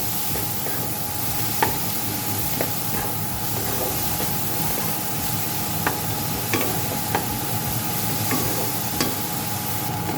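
Grated onion frying in oil until reddish for a prawn and taro curry, a loud, even sizzling hiss up close with occasional clicks and scrapes of stirring.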